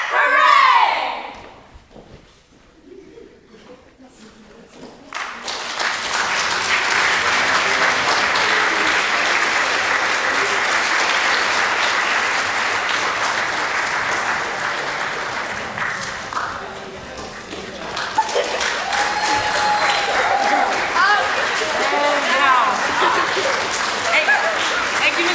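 An audience applauds after a school play: a short quiet start, then dense, sustained clapping that fills the room, with a few voices mixed in.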